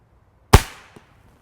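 A Swedish pistol fires a 320-grain arrow at about 185 feet per second: one sharp, loud crack that fades quickly, then a faint distant thud as the arrow strikes downrange.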